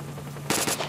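A single short, loud burst of rapid automatic fire rattles out midway through a quiet stretch in the shooter game S.T.A.L.K.E.R. Shadow of Chernobyl, then cuts off.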